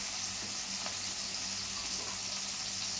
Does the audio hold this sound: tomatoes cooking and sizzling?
yes